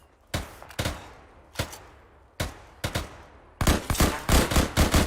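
Bursts of machine gun fire in a military video game, loud close volleys in irregular clusters with short gaps, ending in a denser rapid string of shots.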